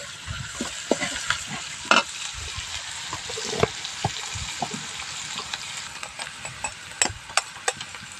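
Chopped onion and green chilies fry in a pan with salt and curry leaves, a soft continuous sizzle broken by frequent sharp scrapes and knocks of a spoon stirring, close by with no talking.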